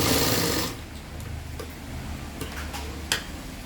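Sewing machine stitching a cross-section piece for the back of a simple V-neck frock nighty, a steady close mechanical hum with faint ticking, louder at the start then running on at an even level.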